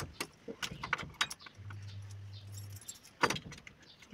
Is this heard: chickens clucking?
no